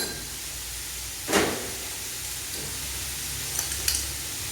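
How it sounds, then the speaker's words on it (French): Leeks sautéing in olive oil with a knob of butter give a steady, even sizzle throughout, broken by one brief louder burst of hiss and a couple of small clinks near the end. "Maintenant, nous allons faire revenir les poireaux dans un peu d'huile d'olive, une noisette de beurre"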